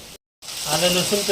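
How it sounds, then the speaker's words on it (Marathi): Chopped onion with ginger garlic paste frying in hot oil, a dense close sizzle that breaks off briefly and then returns, steady and loud. "कांदा मस्तपैकी जरा तेलात भाजून घ्यायचं आहे"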